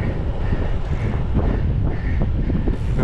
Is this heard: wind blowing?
yes